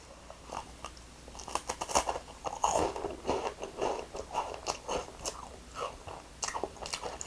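Crisp bites and steady crunchy chewing of a crispy convenience-store snack, close and fairly loud, with repeated crackling bursts and no talking.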